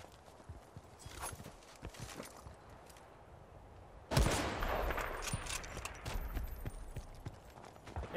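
Shotgun blasts from the starter shotgun in Battlefield: Bad Company 2, a loud broadband boom near the middle followed by a busy spread of scattered shots and game noise, with no talking.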